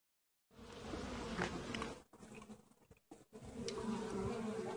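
Dense buzzing of many honeybees close by at a hive, a continuous droning hum that briefly thins and drops out before swelling again.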